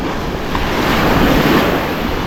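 Steady roar of ocean waves and rough seas, loud and continuous, with wind buffeting the microphone throughout.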